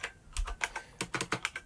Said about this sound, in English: I hope the keyboard isn't too loud. It's my clickety-click IBM Model M.